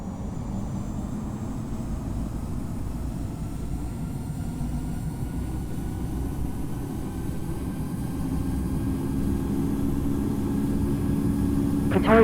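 Air New Zealand Airbus A320 engines during the takeoff roll, a steady, broad roar that slowly builds in loudness, heard from inside the cabin.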